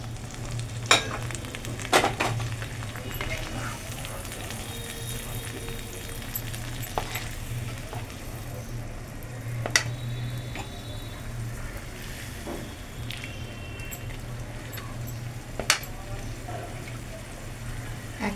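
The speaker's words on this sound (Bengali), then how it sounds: "এবার আমি ডিমগুলি এর মধ্যে ভাজা ডিমগুলি ছেড়ে দিচ্ছি।" Already-fried Sarpunti fish roe goes into a sizzling pan of turmeric-spiced sour gravy, a steady frying hiss broken by occasional sharp clicks of stirring and spoon knocks.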